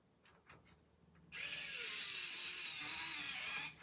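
A power screwdriver whirs steadily for about two seconds, driving a self-tapping screw into an R2-D2 model, its high whine rising slightly under load. Light handling clicks come before it.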